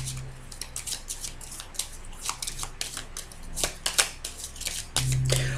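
Tarot cards are shuffled and drawn, with crisp riffling flicks and soft slides in irregular bursts, close and moderately quiet, ending in a brief low hum, no talking.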